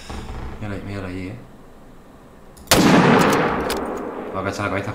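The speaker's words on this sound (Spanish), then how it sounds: "Va a cachar la cabeza justo cuando le disparo" Single sharp rifle gunshot in the hunting game theHunter: Call of the Wild, a loud close blast with a lingering decay, preceded by someone speaking Spanish.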